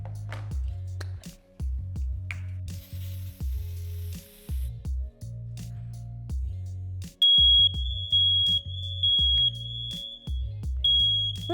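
A traditional household smoke detector goes off in a repeating loud pulsing alarm of short bursts with brief gaps, and a second high steady beeping tone joins in partway through.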